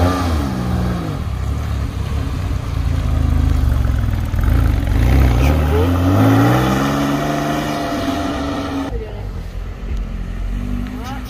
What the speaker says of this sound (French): Une petite Porsche qui arrive,